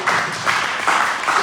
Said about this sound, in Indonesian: Sekarang tepuk tangan berani.